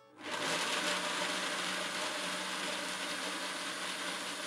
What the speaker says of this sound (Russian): Я на своем стационарном блендере SMEK использую режим смузи, чтобы масса получилась максимально однородной и гладкой.